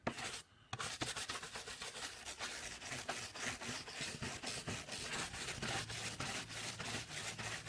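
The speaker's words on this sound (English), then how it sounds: "then we use our brush again just to clean off any excess" A brush scrubs excess cement off a leaded glass window in quick repeated rasping strokes, close and steady, with one brief pause near the start.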